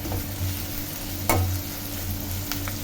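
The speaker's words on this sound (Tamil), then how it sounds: "கொஞ்சம் வதக்கட்டும் ஃப்ரெண்ட்ஸ்." Onions sautéing in a pan for an egg vermicelli dosa, with a steady close sizzle, a low hum and one sharp stirring scrape midway.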